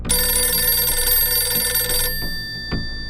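A telephone bell rings loudly in a steady trill for about two seconds, then stops, leaving a faint tail and a soft knock, as an incoming call arrives on a cartoon radio call-in show.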